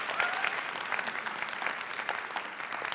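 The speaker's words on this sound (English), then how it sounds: "Give her a clap." Small audience clapping steadily after a dance performance at home, a brief sustained round of applause with a soft crowd murmur and an occasional voice in the background.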